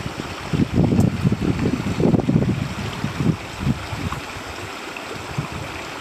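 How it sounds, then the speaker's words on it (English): Gusty wind buffets the microphone on an alpine hiking track beside a lake on the Overland Track, a steady roar with stronger low rumbling bursts in the first few seconds and no talking. "Weather's a bit windy."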